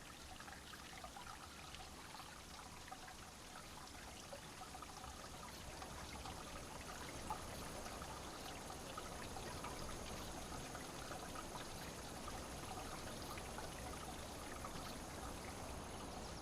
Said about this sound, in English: The water must always flow.